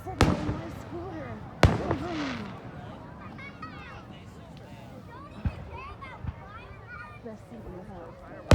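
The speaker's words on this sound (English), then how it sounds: "You should be sitting watching the fireworks." Independence Day fireworks in Aston, Pennsylvania, with sharp booming blasts at the start and again later, echoing over a crowd while children and adults talk and call out nearby.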